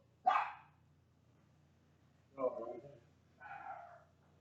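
A dog barks three times, a sharp first bark followed by two rougher, longer ones after a pause, fairly close and separated by near silence.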